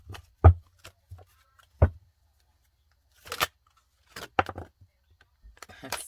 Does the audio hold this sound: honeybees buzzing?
no